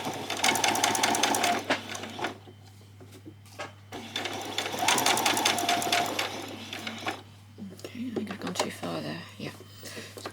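A sewing machine stitches a bodice in two fast, rattling runs of several seconds each, separated by pauses, with a shorter burst near the end while a person talks quietly in between.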